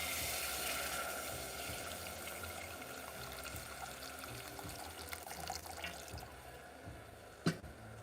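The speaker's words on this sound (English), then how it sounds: "Add back in our water." Water poured from a tap into a pot on the stove to make noodle broth, a steady hiss and trickle with a short clink near the end, no talk.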